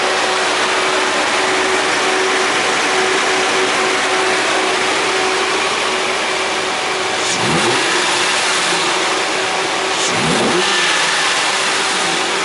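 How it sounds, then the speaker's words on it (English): A hand-built 2012 Aston Martin Virage sports car gives a loud, close engine note, steady and droning, with two sharp revs blipped up a few seconds apart. "Rev the engine a few times so that you can hear the sound of it."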